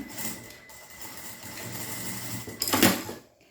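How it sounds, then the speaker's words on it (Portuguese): A sewing machine stitches across the folded end of a synthetic leather strap in a short, soft run of needle strokes that builds briefly toward the end, with nobody speaking. "vou fazer uma costurinha antes, pra não ficar levantando, depois fica mais fácil de costurar"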